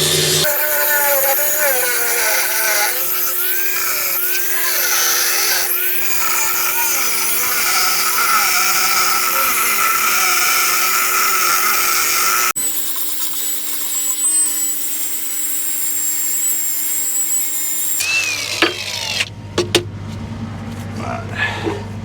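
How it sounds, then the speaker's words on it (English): A 9-inch angle grinder cuts off a steel block on a welding site, its loud whining drone running steadily, shifting pitch partway through, with clanks and knocks near the end. "9-inch grinder."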